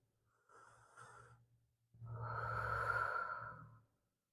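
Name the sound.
deep breath during yoga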